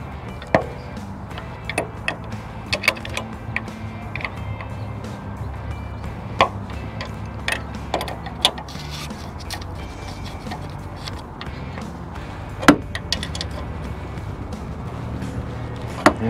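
Bolts on an RV rear bumper are tightened with a wrench, producing repeated sharp metallic clicks and ratcheting ticks at irregular intervals, close and moderately loud over a low background hum.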